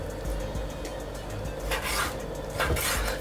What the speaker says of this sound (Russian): сейчас нарезаем мясо на кусочки